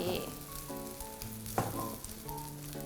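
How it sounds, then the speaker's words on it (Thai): A stuffed Thai omelette filled with minced pork fries in a pan, a close, steady sizzle with a single sharper scrape partway through; no voices. "แล้วก็ทอดให้สุกทั้งสองฝั่งค่ะ"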